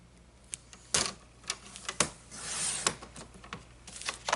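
A paper trimmer cuts paper at close range, several sharp scraping slices and clicks spaced irregularly, with one longer swish in the middle and no talk.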